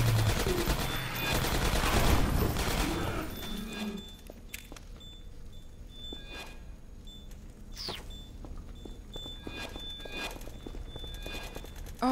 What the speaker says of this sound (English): Careful, I hear turrets.